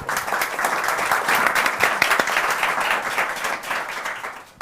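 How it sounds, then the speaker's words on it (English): Panel guests at a sustainability conference in London receive a round of steady applause from the audience, moderately loud and continuous, easing off near the end. "A round of applause for all our guests, please."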